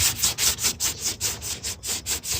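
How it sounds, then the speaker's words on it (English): A sanding block is rubbed in steady back-and-forth strokes across a truck fender, about a dozen rhythmic rasping passes, close and clear with no talking. "Everything I've seen says to sand in a crosshatch pattern like this."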